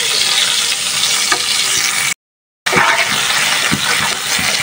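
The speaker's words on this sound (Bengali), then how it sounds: "আর ঝুলকাটা আমি মশমশা করে ভেজে নিচ্ছি।" Jhulkata frying crisp in hot oil, a loud, dense crackling sizzle close up that drops out briefly to silence partway through, then resumes with occasional spatula knocks.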